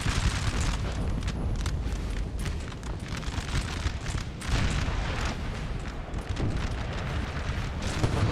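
Artillery fire in the video game Napoleon: Total War booms repeatedly across a battlefield, heavy rolling blasts overlapping in a dense, continuous barrage with no talk.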